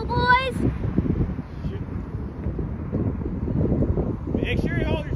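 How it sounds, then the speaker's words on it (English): Wind buffets the microphone at a railroad crossing in Wyandotte, Michigan, in continuous low, gusty rumbles, with short high chirping sounds at the start and end. "It's pretty windy out here"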